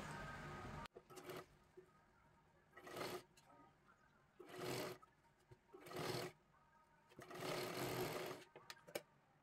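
A sewing machine stitches a blouse in four distinct bursts separated by short pauses, each run rising and falling in loudness, close by and fairly quiet.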